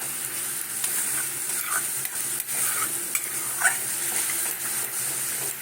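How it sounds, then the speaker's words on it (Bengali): Powdered spices being stirred steadily with cauliflower and peas in a pan for curd cauliflower with potato, a soft continuous sizzle with scraping spatula strokes running throughout, close and alone. "গুঁড়ো মশলা আছে লেগে যাবে ওই জন্য এরকম কন্টিনিউ নাড়ছি আমি"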